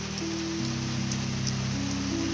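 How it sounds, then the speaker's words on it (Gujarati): Steady morning rain falling outdoors after a night thunderstorm, a continuous even hiss of drops on surfaces with a low steady hum beneath, no voices. "સવારમાં વરસાદ બરાબર ચાલુ થઈ ગયો છે"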